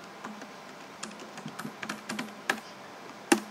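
Keys tapped on a computer keyboard while a value is entered manually, irregular clicks spread across the stretch, moderately close, with a couple of louder strikes near the end and no talk.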